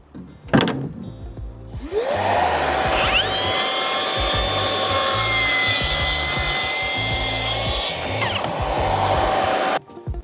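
A wooden internal door edge is planed: a tool motor spins up to a steady whine, cuts continuously for about seven seconds and then winds down, heard close and alone.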